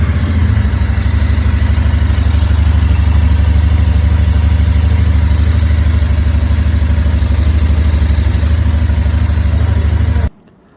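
Royal Enfield Interceptor motorcycle engine idling steadily and loudly up close, a constant low throb for about ten seconds before cutting off abruptly.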